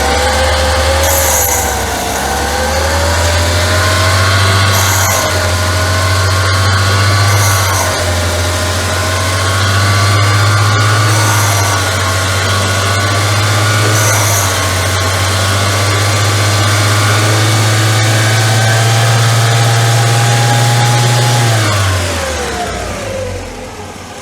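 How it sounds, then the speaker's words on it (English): A coked-up Volkswagen engine running on only three cylinders revs hard and steadily for about twenty seconds while a tiny trickle of water is drizzled into it, then the revs drop away at the end. The engine is loud and close, and no one speaks. "we're gonna just drizzle the tiniest amount of water in while revving the engine up."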